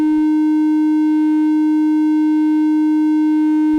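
An Arturia MiniBrute 2 synthesizer holds a single loud, steady lead tone with a touch of pulse width added, bright and unwavering for several seconds with no talk.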